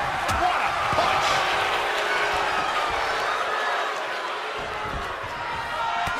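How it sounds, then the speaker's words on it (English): A wrestling arena crowd cheers and roars without a break, loud and dense all the way through. A sharp slam sounds near the start and faint commentary runs under it. "The sound of this crowd is deafening, and he's asking for more."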